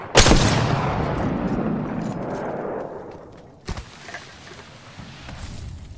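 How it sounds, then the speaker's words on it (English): Gunfire in the video game Apex Legends: a loud, sustained burst of shots opens the clip and trails off, then a sharp second shot with a few scattered follow-up reports rings out at close range. "Firing."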